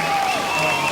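A beach crowd at a Hurley Pro quarterfinal surf contest cheers and applauds for surfer Filipe Toledo, a dense, continuous wash of clapping and cheering in one brief burst.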